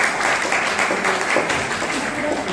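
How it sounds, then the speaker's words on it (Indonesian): Applause from a live event audience, loud and close, with continuous dense clapping that carries through the entire short clip. "Tepuk tangan untuk Brian."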